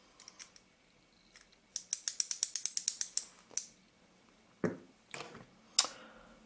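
Small parts of a Canon FL 50mm f/1.8 lens focus mechanism are tightened by hand. The work gives quick, crisp metallic ratcheting clicks in a rapid burst, then a few scattered clicks and soft knocks, close and quiet.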